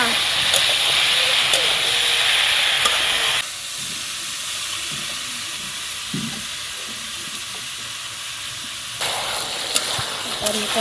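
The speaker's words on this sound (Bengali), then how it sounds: "কষা হয়ে গেল এখন তরকারিটা ঢেলে দেব" Curry poured into a hot pan for a Bengali pangas fish dish, giving a steady broad sizzle and hiss that drops quieter midway then swells again, with a voice speaking over it.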